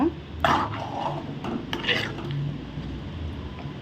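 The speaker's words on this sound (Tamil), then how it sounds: "போட்டு இந்த மாதிரி நல்லா கிண்டிக்கிட்டே இருங்க" Ragi halwa is stirred in a pan with a few close scrapes and knocks of the spoon against the metal, scattered over a quiet kitchen background.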